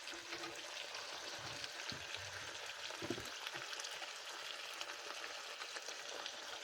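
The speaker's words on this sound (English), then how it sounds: "I'm going to go ahead and add the broth now." Broth poured into penne in a hot pan for penne all'assassina, giving a steady close hiss and sizzle that holds evenly throughout with light bubbling.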